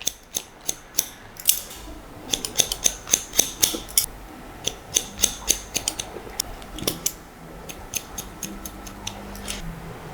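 Scissors point-cutting hair on a man's haircut, a long series of crisp close snips in an uneven rhythm, some in quick clusters, with no talk.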